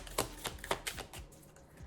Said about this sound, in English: keep on shuffling, keep on flipping